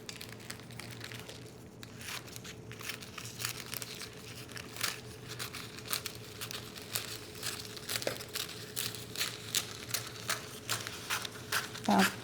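Cellophane wrap for candy ornaments crinkles and crackles as it is cut, a quiet series of sharp rustling snaps repeating at an uneven pace, growing a little busier toward the end.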